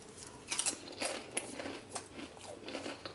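Crunchy bites into a homemade fried samosa, several crisp crunches and chewing sounds close up, quiet, with no talking.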